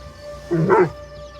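A dog in the video game Assassin's Creed Shadows gives a short whimpering, yelping bark burst, close and fairly loud, lasting under half a second.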